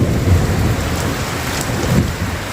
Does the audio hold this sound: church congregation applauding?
no